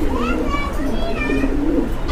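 Big-size male black homer pigeon cooing with soft, low rolling calls close by, under steady background chatter and the sound of children nearby.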